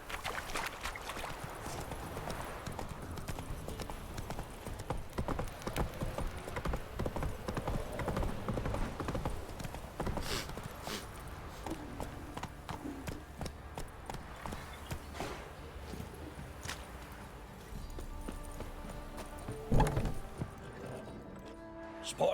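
Hooves clip-clop in a steady rhythm as a horse gallops in The Witcher 3 video game, close and continuous, with occasional heavier thuds and faint game ambience around the hoofbeats.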